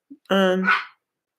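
A single close, loud dog bark, harmonic and yelping, preceded by a brief faint sound and followed by quiet.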